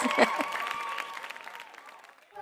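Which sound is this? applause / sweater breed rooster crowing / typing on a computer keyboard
applause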